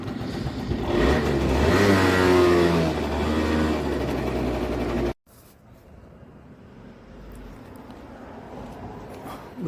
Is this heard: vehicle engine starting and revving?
yes